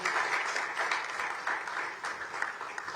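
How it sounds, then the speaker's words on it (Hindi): Warm, steady applause from an audience at a hospital event launching robotic surgery, clapping for Dr. Santosh Agrawal, dense and continuous with slight swells. "डॉक्टर संतोष अग्रवाल के लिए सब लोग एक बार ताली बजाएं"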